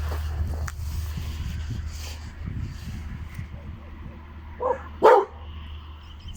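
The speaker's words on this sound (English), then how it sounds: "there's a dog there." A dog gives two short barks near the end, moderately close, over a low rumbling background with faint talk earlier.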